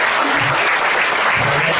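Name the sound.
audience applause for the doctor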